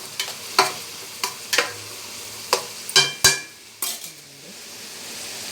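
Four green chillies sizzle in a hot pan while a metal spoon clinks and scrapes against it in repeated sharp strokes, with a soft hiss running underneath throughout.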